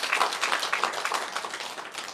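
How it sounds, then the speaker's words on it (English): An audience applauds the actors after a performance at a national symposium, a dense, even wash of many hands clapping that holds steady and tapers slightly over about two seconds, with no talking. "So give them a strong round of applause."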